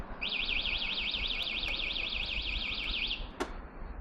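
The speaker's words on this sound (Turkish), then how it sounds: "Bir daha deneyelim alarm ötecek mi?" A loud electronic motorcycle alarm on a Yamaha R25 warbles rapidly up and down for about three seconds, then cuts off, followed by a single sharp click.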